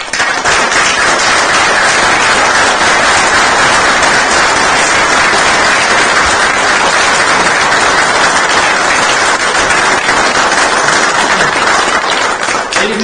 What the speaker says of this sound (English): please join me in one final thunderous round of applause for Sugar, sending her Godspeed and for a life well lived.